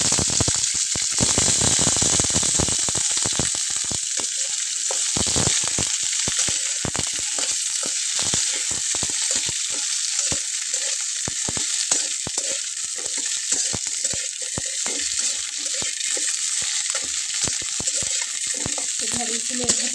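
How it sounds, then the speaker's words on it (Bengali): Okra frying in oil in a wok, a loud, steady sizzle with crackling and occasional stirring scrapes throughout, no talking. "ঢ্যাঁড়সগুলো এভাবে একটু নেড়ে চেড়ে গায়ের পানিটাকে একটু শুকিয়ে নেব।"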